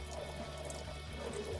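A steady, soft trickle of water poured into a potted orchid, continuous and fairly quiet throughout, with no talking.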